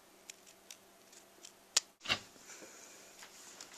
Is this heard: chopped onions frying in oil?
no